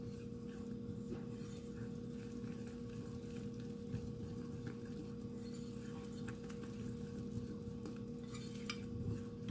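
American pancake batter made with natural yogurt is stirred in a bowl, giving a soft, steady scraping and wet swishing that goes on throughout, faint and close, under a constant low background hum.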